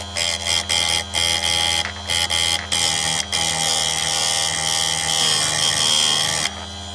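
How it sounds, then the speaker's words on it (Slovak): Electric grinder sharpening the teeth of a chainsaw chain, a loud, bright high-pitched whine broken into short bursts as each tooth is touched, then a steadier run of grinding that stops abruptly near the end. "pustíme brúsku a brúsime ďalší zub"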